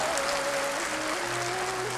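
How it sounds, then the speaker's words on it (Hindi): An audience in a hall claps, a dense, steady wash of applause over two seconds with a faint tonal hum beneath. "मैं चाहूंगा आप अपने लिए एक बार जबरदस्त तालियां बजा रहे हैं"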